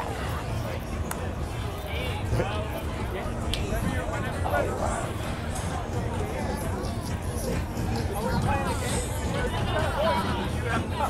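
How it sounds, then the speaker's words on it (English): Crowd chatter at a Philadelphia Eagles tailgate, a steady outdoor babble of many overlapping voices at moderate loudness, continuous throughout with no single voice standing out. "Here's my crowd."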